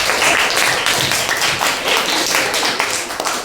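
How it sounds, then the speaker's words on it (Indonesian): A school class claps for a student group, a steady dense patter of many hands applauding together in a room, loud and continuous throughout with no speech over it. "tepuk tangan untuk kelompok 5"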